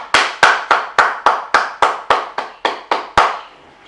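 A congregation bursts into rhythmic, unified clapping during a church service, about a dozen sharp, evenly spaced claps in quick succession, loud and close, ending with a fading tail.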